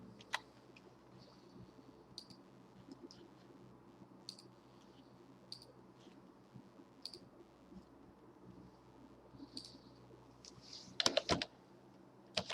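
Close, quiet typing on a computer keyboard while entering a Google search, scattered key clicks at an irregular pace ending in a quick loud burst of keystrokes near the end.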